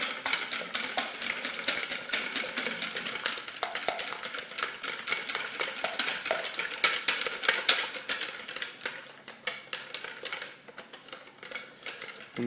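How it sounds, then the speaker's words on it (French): A wire whisk beats yogurt cake batter in a bowl with quick, steady rhythmic scraping and clicking, close and continuous with no talking. "nous allons déjà commencer à battre le mélange avec le fouet"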